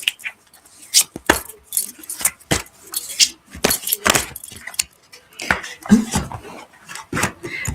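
Tarot cards being shuffled and pulled by hand: a close, irregular series of papery flicks, slaps and riffles with short pauses between bursts, with no talk over it.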